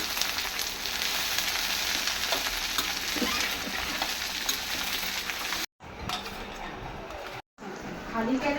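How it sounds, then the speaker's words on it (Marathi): Okra (bhindi) frying in hot oil: a loud, steady, dense sizzling hiss that cuts out abruptly twice near the end. "तेलामध्ये फ्राय करून घ्यायची पहिली"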